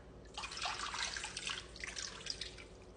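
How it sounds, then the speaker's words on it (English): Two cups of water poured into a baking dish holding a beef roast, a short, soft splashing trickle lasting about two seconds, close and quiet, with no talk. "I'm gonna add 2 cups of water."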